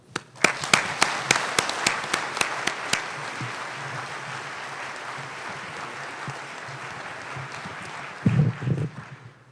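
An audience at the AGU Fall Meeting 2012 Gutenberg Lecture applauds steadily to welcome lecturer Tom Jordan. A few sharp individual claps lead into sustained, even clapping, which fades out as a voice begins at the end.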